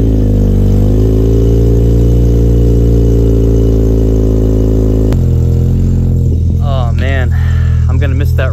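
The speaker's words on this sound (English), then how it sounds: "This is the last startup you're gonna hear with this exhaust setup." A Honda Civic Type R with a full race exhaust idles with a loud, deep droning rumble close to the microphone, then the engine note shifts abruptly while someone speaks over it.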